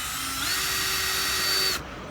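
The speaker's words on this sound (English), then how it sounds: "If you're drilling holes" A power drill boring holes at a garden planting site whines steadily for nearly two seconds, loud and close, then cuts off sharply into quiet room tone.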